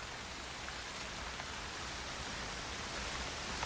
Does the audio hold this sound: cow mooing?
no